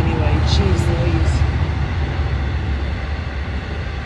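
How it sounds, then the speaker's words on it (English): A train passing by in the middle of the night, a broad steady low rumble with faint squeals near the start, sustained and fairly close throughout. "It's the middle of the night and a train's coming by anyway."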